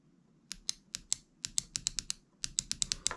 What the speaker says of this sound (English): You should be able to hear it clicking, just to ensure that you've done it right.